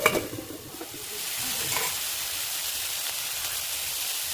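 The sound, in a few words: onions and tomato frying in pan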